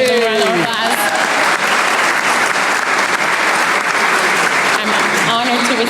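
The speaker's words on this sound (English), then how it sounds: "Give them a round of applause." An audience at a small business awards ceremony claps steadily for an award recipient's team, a full, even round of applause held throughout, with a voice briefly audible at the start and end.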